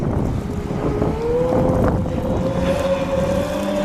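A jet-drive Evinrude G2 outboard on an all-aluminum bass boat revs up steadily while accelerating, a rising whine over constant wind and water rush, loud and close throughout.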